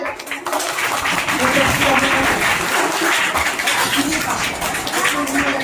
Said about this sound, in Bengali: জোরে হাততালি দেবে।